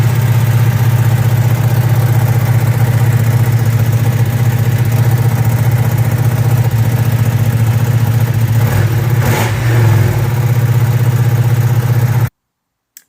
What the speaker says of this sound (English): it's an angry sounding bike, isn't it?